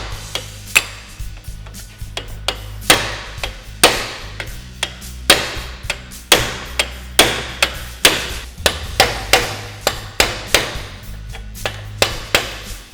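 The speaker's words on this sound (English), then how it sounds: "we're gonna take a chisel or a punch of some sort and try to smack this race and try to break" A chisel or punch is hammered against a stuck inner bearing race in a Polaris RZR UTV hub, giving loud, ringing metal strikes at an irregular pace, close up, with short gaps between blows.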